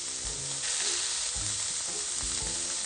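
Minced meat sizzles steadily in a hot pan, a constant crackling hiss with occasional soft bumps of stirring.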